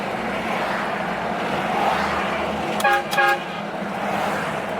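Aftermarket eBay train horns mounted on a Cummins pickup truck, two short loud toots in quick succession over a steady background hum.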